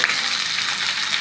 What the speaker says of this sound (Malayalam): എൻ്റെ കൂവിക്കൊണ്ടിരുന്ന കോഴി ഇതാ ചട്ടിയിലിരുന്ന് മുരിഞ്ഞുകൊണ്ടിരിക്കുന്നുണ്ട്